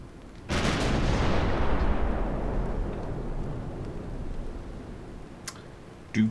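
A heavy naval gun salvo in World of Warships: one loud, close boom that rolls into a long, fading rumble, followed by a few faint ticks and a small thump at the end.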